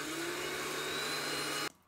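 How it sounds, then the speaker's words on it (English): A blender whirs through spinach, garlic, olive oil and a splash of water for pesto, making a steady high-pitched motor whine that cuts off abruptly after under two seconds. "Pulse until it's smooth."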